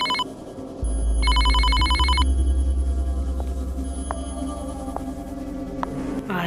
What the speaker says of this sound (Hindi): रिंगटोन बजी।